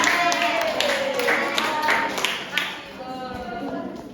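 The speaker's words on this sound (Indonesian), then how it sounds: "Kasih aplaus dulu untuk kelompok 1" Schoolchildren in a second-grade classroom clap for a group of classmates, a scattered patter of hand claps mixed with a crowd of chattering voices.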